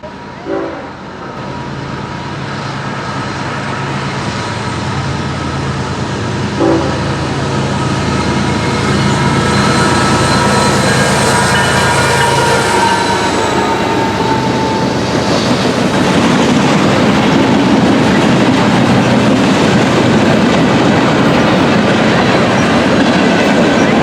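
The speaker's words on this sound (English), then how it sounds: "another westbound mixed freight train on the Willard subdivision" A long westbound CSX mixed freight train rumbles past close by in Berea on the Willard subdivision, wheels clattering steadily over the rails, with a horn sounding early before the roar builds and fills the air.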